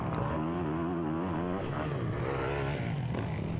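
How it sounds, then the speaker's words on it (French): Motocross race with a Honda CRF 450 and a KTM 450, engines droning loud and close with shifting, rising and falling pitch, running steadily throughout with no talk. "Bugeaud sur la Honda CRF 450. Lauzon sur la KTM 450."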